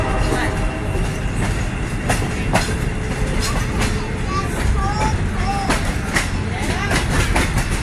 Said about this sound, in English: There's a CSX train right there.